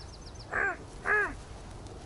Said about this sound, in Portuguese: Olha para isto, corvos.